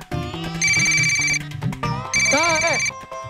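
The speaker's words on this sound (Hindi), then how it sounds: "ये मेरी रिंग है।" A mobile phone ringtone plays a bright electronic melody in two loud, close bursts over a busy scene from the Baalveer TV series, with background music and a voice underneath.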